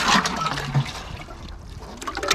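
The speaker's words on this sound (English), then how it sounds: "you can quickly dip your watering cans in the vessel and fill them up immediately" Water sloshes and gurgles as a garden watering can is dipped into a vessel of water and filled, with a few splashing bursts and an ongoing liquid trickle, close and fairly loud.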